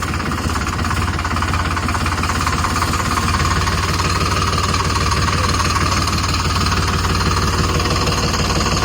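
A tractor engine idles steadily and loudly for the whole stretch, a continuous low, throbbing rumble with a faint knocking pulse, with no voices over it.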